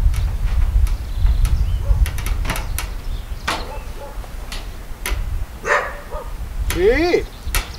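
A farm dog at an off-grid riverside cabin barks in short, sharp bursts nearby, with a few whimpers. Someone speaks intermittently over the barks and rough handling noise.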